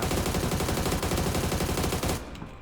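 Rapid automatic gunfire in the video game PUBG, a dense continuous burst of loud shots that cuts off near the end, with no talking over it.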